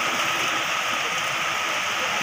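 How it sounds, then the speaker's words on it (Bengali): Heavy rain pours down in a dense, continuous hiss, loud and steady throughout with no voices. "জোরে বৃষ্টি এসে গেছে"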